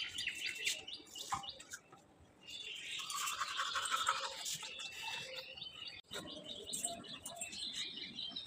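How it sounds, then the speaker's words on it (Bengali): Toothbrush scrubbing teeth at home in a Bengali household, a steady brushy scrape running through most of the stretch, with birds chirping and tweeting outdoors in the background and a brief pause near the end. "আমি ব্রাশটা করে নিই।"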